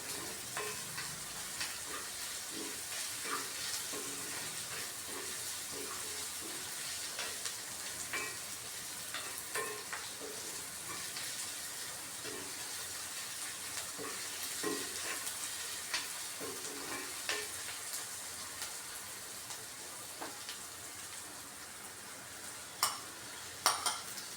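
Food frying in a pan before capsicum is added, with a constant crackling sizzle and occasional stirring scrapes, close and fairly quiet, with no talking.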